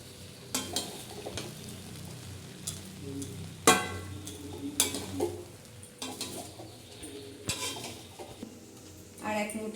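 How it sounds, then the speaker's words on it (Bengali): Basanti pulao with rose water is stirred in a pot, a spoon scraping and clinking against the metal in uneven strokes over a faint sizzle, close and moderately loud, with a little quiet talk. "এবার একটু নেড়ে দেবো।"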